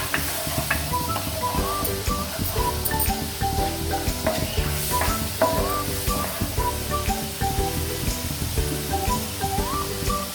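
Milk is poured and stirred into a buttery sauce in a hot pan for cheesy fries, a constant crackling sizzle with spoon scrapes and light clinks throughout, close and steady.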